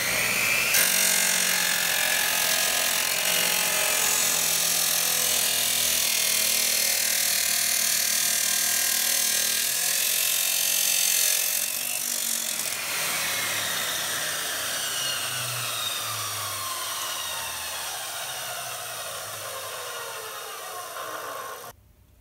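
A Makita 2414 chop saw cuts through a thin piece of angle iron, a loud, continuous abrasive whine with harsh broadband grinding that holds steady for about twenty seconds, then the motor winds down in a falling pitch.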